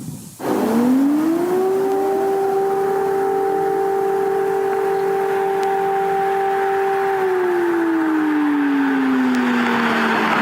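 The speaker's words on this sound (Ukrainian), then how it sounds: "У Запоріжжі тим часом триває повітряна тривога." Air raid siren sounding in Zaporizhzhia: a single loud, sustained wail that rises at the start, holds a steady pitch for several seconds, then slowly falls, heard alone without talk.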